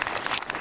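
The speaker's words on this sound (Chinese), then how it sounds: "我想要请大家再给哲轩一个掌声。" Brief burst of audience applause at a baseball team's opening training ceremony in Chiayi, honoring outgoing team captain Lin Che-hsuan; dense, steady clapping from a crowd, fairly loud throughout.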